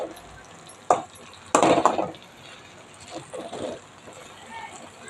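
Spoon stirring an omelette into curry in a pan, with a few brief scrapes and clinks spaced across the clip over quiet kitchen background. A voice speaks now and then.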